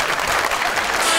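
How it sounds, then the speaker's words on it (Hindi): A studio audience on a Pakistani talk show claps, a brief dense burst of applause close and steady throughout. "एंजेलिना के लिए तालियां"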